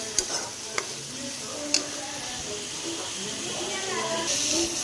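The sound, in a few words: vermicelli being stirred and roasted in a pan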